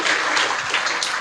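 A church congregation at a Christian service breaks into a short burst of applause, dense clapping and some cheering across the whole moment.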